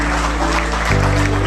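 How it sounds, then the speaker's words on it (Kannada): An audience claps at a Marathi association gathering in Bengaluru during the release ceremony of a souvenir-issue appeal, a dense, continuous burst of applause with a steady hum from the hall's sound system underneath. "ಜೋರಾದ ಚಪ್ಪಾಳೆ ಬರಲಿ."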